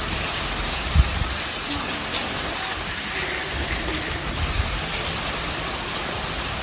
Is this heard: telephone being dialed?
no